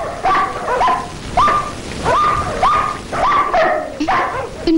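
Several dogs bark in a comedy film scene, a loud, close run of repeated barks and yips in uneven bursts with short gaps, with a whimpering edge and no voices over them.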